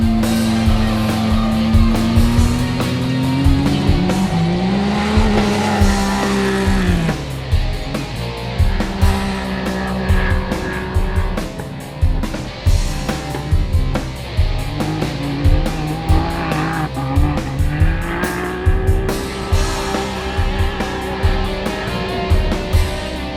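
UTV race cars roar around a dirt track in Arizona, with engines rising and falling in pitch as they accelerate and pass, along with bursts of tire noise, loud and continuous throughout.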